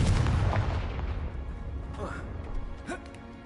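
A Confringo fire spell bursts in Hogwarts Legacy with a loud, broadband blast at the start that decays into a rumbling tail, followed by fainter magical whooshes and crackles.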